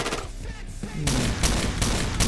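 Gunfire in the online shooter Point Blank, several sharp close shots with the loudest bursts in the second half, played over faint background game noise.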